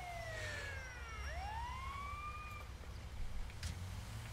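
An ambulance siren in GTA V wails in rising and falling sweeps as the vehicle arrives at a firefighting rescue scene, loud and steady over low engine rumble, with no talk.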